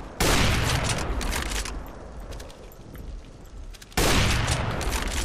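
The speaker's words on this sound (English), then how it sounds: "I must have shot him in the leg once, because I shot him in the leg again" Gunshots in Counter-Strike: Global Offensive, with a loud rapid burst of fire at the start, a quieter stretch of distant shots and footsteps, then another sharp loud burst near the end.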